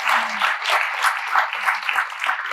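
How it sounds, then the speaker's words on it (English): Audience applause at a talk show, a steady wash of many hands clapping at moderate distance, continuous for a few seconds without talk. "every answer of Faye's deserves a huge round of applause"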